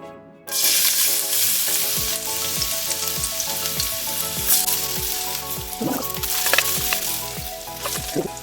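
Garlic hits a little hot cooking oil for pork humba, breaking into a sudden loud sizzle that stays steady, with rhythmic low scraping strokes of a spatula repeating about every half second.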